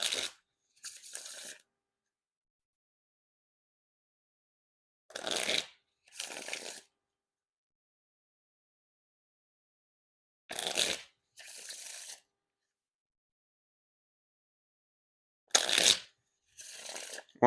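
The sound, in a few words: riffle shuffle and bridge shuffle of Dan and Dave playing cards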